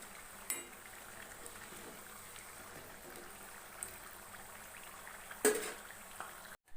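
Eggs frying in oil for egg chilli give a faint, steady sizzle with a few soft clicks and a brief clatter near the end, no voices.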